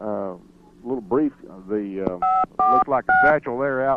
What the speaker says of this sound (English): And you may hear a dial tone or something every now and then in the background.